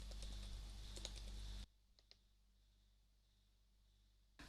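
Brief burst of computer keyboard typing while entering code, quick dense clicks that stop abruptly, followed by a few faint isolated taps in near silence.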